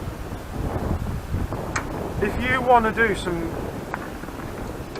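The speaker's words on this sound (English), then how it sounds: "I'll come closer because it's windy and you might not even be able to hear me." Gusty wind buffets an outdoor microphone with low rumbling bursts during a Kawasaki KLR 650 motorcycle review, heavy and uneven under someone talking close to the camera.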